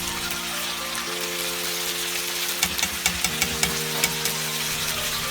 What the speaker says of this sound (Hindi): चिकन को थोड़ा और भून लें।